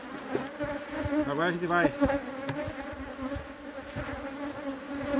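Honey bees swarm in a dense, steady buzz around hives during a honey harvest. Individual bees drone past close by, rising and falling in pitch, and a person speaks briefly under the buzzing.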